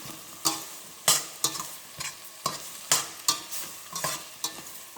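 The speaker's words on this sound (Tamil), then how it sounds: "அதையும் எண்ணெயில் வதக்கிடுறேங்க நான்" Green or dried red chili sautéing in hot oil while preparing vegetable upma, with repeated sharp sizzling bursts as a spoon stirs the pan, close and fairly loud, no voices.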